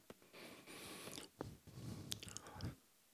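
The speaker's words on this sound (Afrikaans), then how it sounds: "Ek eet hom nou, kou hom." Someone chews communion bread close to the microphone, with soft wet crunching and squishing bites in irregular bursts and no talk.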